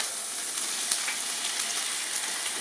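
Bream fillet sizzling in a hot frying pan, a steady close crackling hiss with small spits and pops throughout, no voices.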